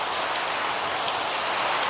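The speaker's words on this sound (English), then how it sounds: "why is it always going to rain at the wrong time?" Steady rain from Minecraft with the Create mod, a dense even hiss of falling drops on surfaces, constant and fairly loud with no voices.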